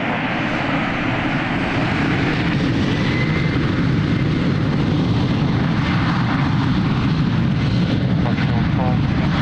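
An aircraft takes off from runway 02 at Lisbon Airport, a loud, continuous broadband engine roar that holds steady without a break.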